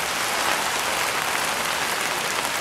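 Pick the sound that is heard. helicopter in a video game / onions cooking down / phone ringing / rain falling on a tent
rain falling on a tent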